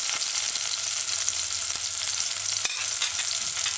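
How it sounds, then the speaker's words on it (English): Diced onions sauté in a pan on a stove set to medium high, giving a dense steady sizzle close by with one sharp clink, no voices. "add onions, diced onions. Let's allow it to saute for about"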